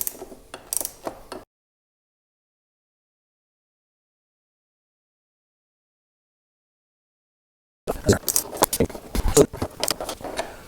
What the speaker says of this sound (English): The nice thing about a ratchet is that you can turn it multiple times without having to take off an Allen wrench itself and reinsert it.